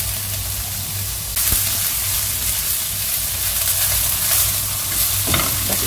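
Bell pepper is stir-fried in a wok with a loud, continuous sizzle that jumps up partway through, plus scraping strokes from stirring, close and with no voices.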